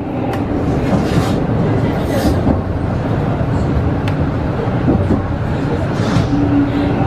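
A steady low rumble of a Keikyu electric train rolling along rails on the Main and Kurihama lines toward Misakiguchi, constant and close, with faint rhythmic clatter beneath.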